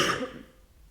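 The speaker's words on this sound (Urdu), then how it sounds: "کھانسی کا بھی اتنا برا حال ہے" A woman sick with a viral illness gives a single harsh cough at close range. It is loud at the start and trails off quickly, with no talk.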